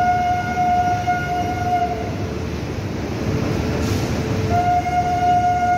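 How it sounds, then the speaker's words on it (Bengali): The Kolkata–Sairang Express, a new train decorated with flowers, pulls out of platform 1 at Kolkata. A steady loud rumble of railcars runs throughout, and a long steady horn tone sounds near the start and again near the end. There is no talk. "ছাড়লো কলকাতা সাইরাম এক্সপ্রেস কলকাতার 1 নম্বর প্ল্যাটফর্ম থেকে"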